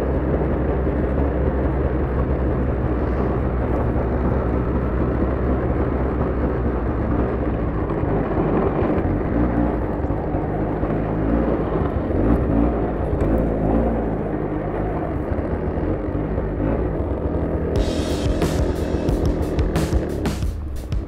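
An Arctic Cat Blast snowmobile, ZR or LT long-track model, is ridden over bumpy snow, its engine giving a steady, loud, close drone with track rumble throughout.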